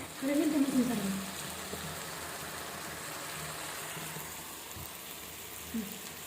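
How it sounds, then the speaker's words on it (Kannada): Garlic sizzles in hot oil for a tempering, giving a steady, soft frying hiss throughout, with a brief voice-like sound near the start. "ಈಗ ನಾನು ಬೆಳ್ಳುಳ್ಳಿ ಹಾಕ್ಬಿಟ್ಟು ಒಂದು ಒಳ್ಳೆ ಒಗ್ಗರಣೆ ಹಾಕಿದ್ದೀನಿ"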